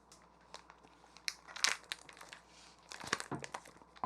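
Paper packaging around convenience-store food such as imitation crab sticks crinkles and rustles in several short bursts, louder near the middle and end, handled close by with no talking.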